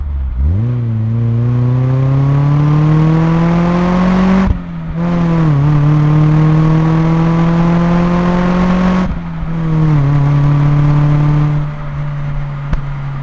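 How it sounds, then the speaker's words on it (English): A Mazda Miata with an aftermarket exhaust, miked at the tailpipe, pulls onto a highway: a loud, close engine note climbs steadily through the revs, dips briefly at two gear changes, then settles into a sustained drone. "here's how it sounds with the pull onto a highway with the exhaust mic'd up"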